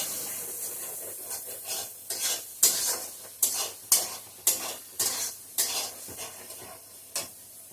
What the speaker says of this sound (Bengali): একটু জল দিয়ে সমস্ত মশলাটাকে ভালো করে কষিয়ে নিচ্ছি।